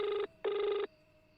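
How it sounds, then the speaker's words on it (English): Outgoing phone call ringback tone: two long even electronic rings, the second longer, then silence, clean and fairly quiet. "That's the sound of an outgoing call"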